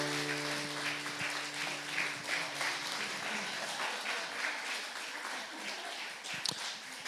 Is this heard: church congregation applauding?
yes